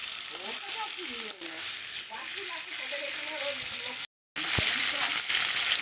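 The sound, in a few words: hilsa fish frying lightly in oil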